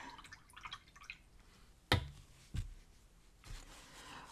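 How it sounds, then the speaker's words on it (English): A paintbrush tip is swished and tapped in a water cup, giving soft, faint drips and splashes with a couple of sharper knocks against the container in a quiet room. "So I'm going to wash the tip of my brush off."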